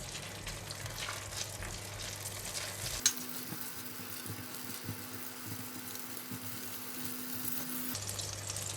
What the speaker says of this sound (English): Now we're going to cook the vegetable. I'm going to start with carrot because carrot take longer time to cook.